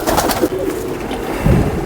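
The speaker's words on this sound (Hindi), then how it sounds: "ये देखें कबूतर" A Sialkoti pigeon gives a short, low coo that is close and fairly loud over a muffled, noisy background, with no talking.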